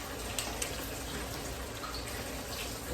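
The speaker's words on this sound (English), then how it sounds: "Give my hands a good rinse because I don't want to smell like shrimp." Steady rush of running water from a kitchen tap as hands are rinsed under it, a continuous close hiss with faint splashing and no pauses.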